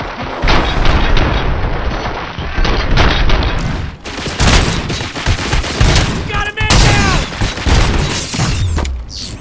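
Heavy gunfire in the RoboCop: Rogue City game, dense overlapping shots and booming impacts with mechanical clatter, loud and nearly continuous with brief lulls, voices faint beneath.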